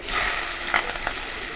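Cumin, mustard seeds and onions sizzle in hot oil for a tempering, giving a steady, close, bright frying hiss with a few small pops and a light stir.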